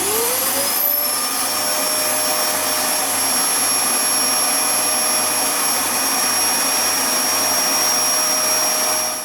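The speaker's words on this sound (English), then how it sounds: "a vacuum cleaner just to remove all the fluff from here" A vacuum cleaner runs continuously while sucking fluff off a tumble dryer motor, a loud steady whining roar with high tonal hum that holds unchanged close to the nozzle.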